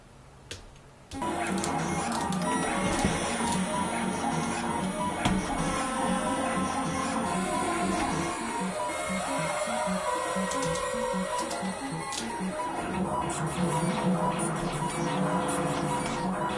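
An Archangel modular synth sequencer starts abruptly and runs on steadily, producing a dense, loud electronic pattern of repeating tones with a pulsing, mechanical rhythm and shifting pitches, no voices over it.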